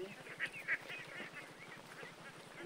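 A village flock of Khaki Campbell ducks gives a couple of faint, short quacks early on, with soft, low background noise around them.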